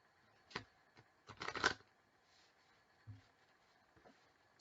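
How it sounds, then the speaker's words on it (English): A deck of tarot cards is cut and shuffled close by, with quiet riffling bursts, one short flurry followed by a longer rustle, then a couple of soft taps in otherwise near silence. "I will cut the deck."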